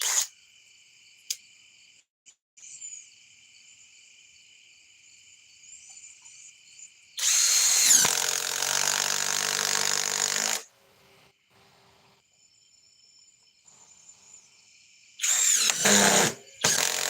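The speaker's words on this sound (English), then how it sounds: "That way you can turn your impact wrench into an impact driver." An impact wrench fitted with an adapter to act as an impact driver gives two loud bursts of hammering rattle, about three seconds and then one second long, with quiet tonal ringing in between.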